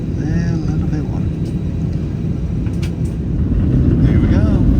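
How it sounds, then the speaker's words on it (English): Inside a Delta passenger jet cabin at Atlanta airport, a steady low engine and airflow rumble fills the space as the plane pushes back on the tarmac, constant and fairly loud with faint tonal whines on top. "It looks like we're pushing back finally."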